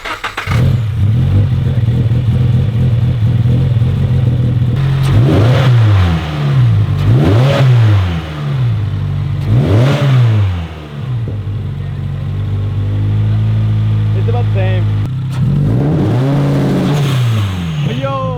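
Nissan R34 Skyline engine with a newly fitted intake, revved repeatedly up close, each loud blip sweeping up and falling back over a rumbling idle, with no talking.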